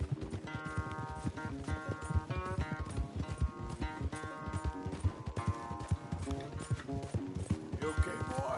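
Horse hooves pound in a fast, continuous galloping rhythm during a race, with music playing over them throughout.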